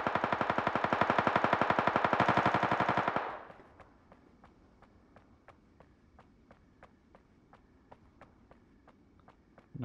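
Loud, rapid automatic gunfire in the video game Ring of Elysium for about three seconds, then quieter evenly spaced single clicks or steps ticking along afterward.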